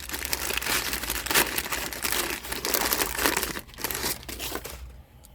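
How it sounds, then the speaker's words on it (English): Crinkly wrapping being pulled off an RGD-5 hand grenade fuse, a continuous close crackle and rustle of packaging with a few sharper tearing bursts, ending in a brief quiet. "unwrap the fuse,"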